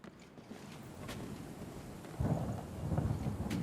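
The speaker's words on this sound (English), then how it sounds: "Okay, it's raining out here." In the video game Deathbound, steady rain hisses under a low, rumbling roll of thunder that swells louder partway through.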